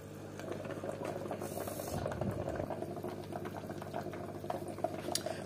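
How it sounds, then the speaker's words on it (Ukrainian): Water bubbles steadily in a home aquarium, a continuous close burble with a constant low hum beneath it and no breaks. "Водичка булькає."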